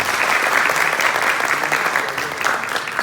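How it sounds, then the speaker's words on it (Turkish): Wedding guests applauding the groom at a civil ceremony, a brisk, dense burst of hand clapping from a nearby crowd, steady for a few seconds. "Damat Bey de alkış lütfen"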